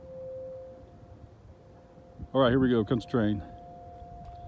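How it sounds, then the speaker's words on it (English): Civil defense sirens tested at noon near a busy multi-track railroad crossing: a faint, steady distant tone held throughout, with someone talking loudly over it partway through. "you can hear sirens going off because they're doing the siren test right at noon"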